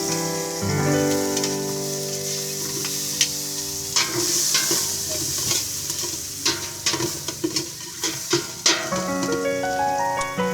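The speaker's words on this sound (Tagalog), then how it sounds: "Sunod ay pwede na natin ilagay ang ating bawang at sibuyas." Garlic and onion sautéing in a pan for macaroni soup, a steady sizzle of frying broken by frequent scraping stirs, with clinks and knocks of the utensil against the pan throughout; no talking.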